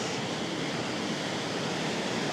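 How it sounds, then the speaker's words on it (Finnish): A river of oddly colored, strongly calcium-rich water in the Lyngen area of northern Norway, flowing with a steady, dense rush that stays even and unbroken throughout, with no voices. "Tää on nyt sitten tämmönen joki"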